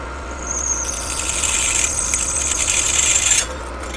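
A Banggood M35 cobalt drill bit bores into a workpiece with a continuous high-pitched squealing grind that builds for about three seconds, then cuts off abruptly.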